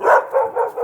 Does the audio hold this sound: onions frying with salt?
no